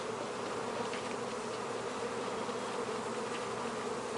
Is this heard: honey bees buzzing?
yes